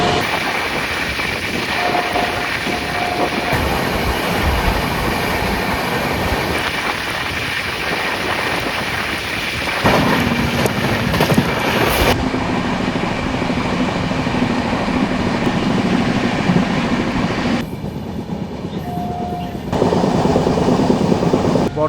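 The 13021 Mithila Express runs at speed on the Kolkata to Nepal route, a loud continuous rumble and clatter of wheels on track heard from inside a carriage, with shifting roar and a brief high tone.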